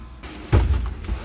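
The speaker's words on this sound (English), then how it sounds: "Bolt stuck. Give it a little tap." A single dull metallic knock on a stuck bolt on a 1966 Ford Bronco, one short close tap in a quiet garage.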